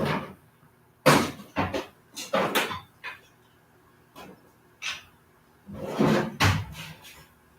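Hammers are set back into a toolbox, giving a series of hard clunks, knocks and rattles in irregular bursts, some loud and close, with short quiet gaps between them.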